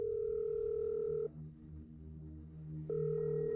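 A telephone gives a steady electronic tone, cuts out for about a second and a half, then resumes over a low background hum.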